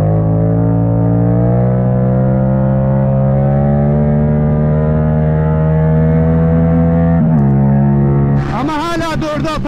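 A Yamaha MT-07 motorcycle with an Akrapovic exhaust pulls hard in third gear, a loud, rising engine drone held steady for several seconds before a brief dip, then a sharp burst of revving and wind noise near the end.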